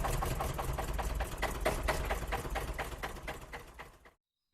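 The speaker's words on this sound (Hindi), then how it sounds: "राजेश, ट्रैक्टर लेके आओ।" A tractor engine runs close by with a steady, rapid chugging pulse at moderate loudness, then cuts off abruptly into silence.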